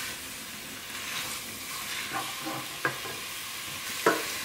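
Goan pork pasta gravy is stirred gently in a pan over a medium flame, a steady sizzle and bubbling hiss running throughout with a few soft scrapes and knocks of the spoon, close up and with no talking.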